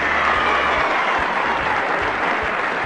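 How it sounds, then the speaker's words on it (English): Crowd cheering and applauding at a tied team game, a dense, steady roar of clapping and voices held at full level throughout with no break. "The crowd was cheering."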